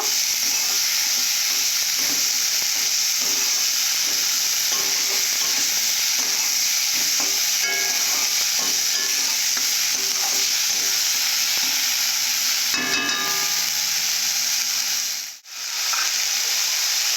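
Onions fry in a pan with salt for a rui fish curry, a loud, steady sizzling hiss close by, with stirring scrapes and clinks near the end, then a brief dip before the sizzle returns.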